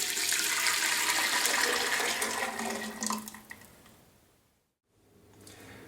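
Blended leek and potato soup poured from a blender back into a pan, a thick sloshing, gurgling pour that runs for about three seconds, then tapers to faint trickles and silence.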